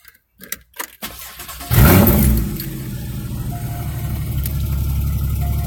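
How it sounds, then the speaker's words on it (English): A Porsche with PCM 3.1 is started: a few soft clicks, then the starter cranks, the engine catches with a loud surge and settles into a steady, close idle. "So let's start the car."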